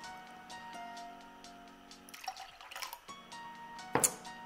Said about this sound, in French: je vais rajouter encore de l'eau